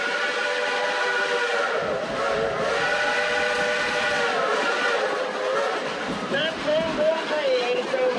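The Dollywood Express steam locomotive in Pigeon Forge, Tennessee, climbs a mountain grade, its steam whistle sounding in long, wavering tones over a steady rumble, with faint voices of riders around.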